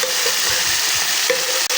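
Mixed dal poured into a hot tadka, hissing and sizzling in the pan, a steady loud fry with some stirring noise and no voices.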